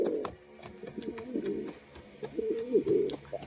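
A pair of Giribaz pigeons coo close by in repeated short, rolling phrases, with faint tapping and rustling between the calls.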